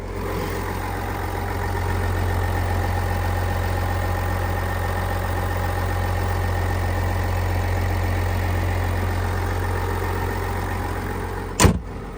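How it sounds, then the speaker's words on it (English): A 2022 GMC Yukon XL SLE with the 3.0L Duramax diesel idling steadily with a low, even rumble, heard up close for several seconds, ending with a brief thump near the end. "The engine's running."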